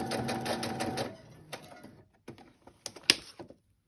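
A sewing machine stitches lace onto an envelope pocket in a quick, rattling run that stops after a second, followed by scattered short clicks and bursts of stitching at close range.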